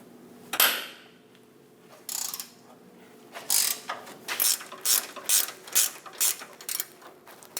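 Ratchet wrench working loose the bolt between the sway bar and frame on a Chevrolet Express 2500 van, sounding as a burst of quick clicking bursts, then a steady run of about eight evenly spaced ratcheting strokes, close and clear.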